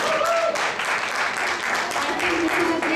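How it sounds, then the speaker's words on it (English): An audience gives a sustained round of applause, a close, even roar of clapping with voices faintly rising through it. "First, I want to give a big round of applause to these three girls."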